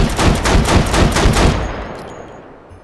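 A semi-automatic napalm launcher in the VR game H3VR fires Inferno rounds in a rapid, loud, evenly spaced burst of about a dozen booming shots, then the noise dies away into a fading tail.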